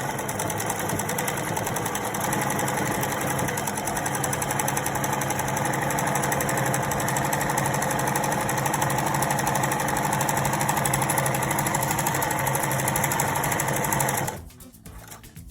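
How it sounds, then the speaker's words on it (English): Sewing machine stitching a three-layer fabric face mask, including reverse back stitching: a steady, fast mechanical whir with rapid needle ticking runs continuously and loud up close, then cuts off abruptly near the end. "I press my reverse button over here on the sewing machine"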